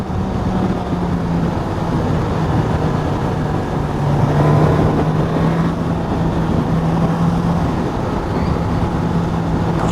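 A Suzuki GSX-S1000GT motorcycle rides along a twisty road. A steady, loud engine drone mixes with wind rush and rises slightly at times, with a sustained low hum running throughout.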